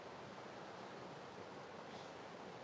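A creek out in nature gives a steady, faint wash of running water, an even hiss with no breaks and no voices.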